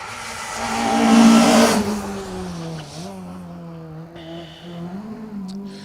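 A Peugeot 106 rally car roars past at speed on an asphalt stage of the Down Rally, its engine note peaking loudly then falling away as it moves off, with gear changes revving in the distance.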